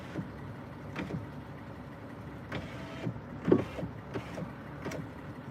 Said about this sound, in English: And the noise is just my engine.